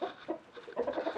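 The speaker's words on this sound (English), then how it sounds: "Roosters are going a bit crazy." Chantecler chickens and roosters clucking nearby, a soft, uneven string of low clucks and murmurs, fairly faint, from a backyard flock.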